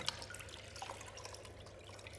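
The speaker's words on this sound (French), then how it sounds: "Quand on trempe notre frange dans l'eau claire" A mop fringe being dipped in clean water while washing floors gives soft splashing and dripping, faint and close, alone without speech.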